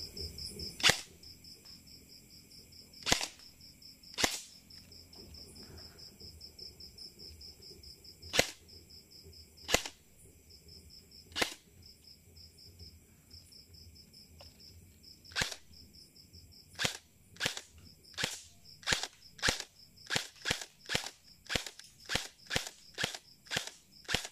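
An airsoft rifle fitted with a flash silencer fires on semi-auto, sharp single cracks spaced irregularly at first and then quickening into a rapid string of shots, over a faint steady whine.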